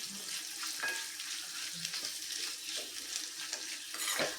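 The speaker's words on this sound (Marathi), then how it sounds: "परतून घेऊयात छानपैकी" Raw peanuts and dried coconut sautéed in oil in a pan, a soft continuous sizzle with scattered scraping stirs and occasional light clinks, fairly quiet and close.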